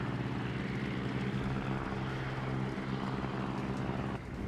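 Aircraft taking off from a ship in the naval battle video game World of Warships, heard as a steady, loud droning propeller engine roar that holds for several seconds and then eases slightly near the end.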